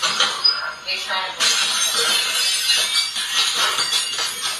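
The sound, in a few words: car window glass being struck and breaking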